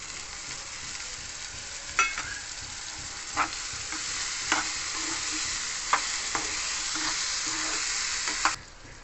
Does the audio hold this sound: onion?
yes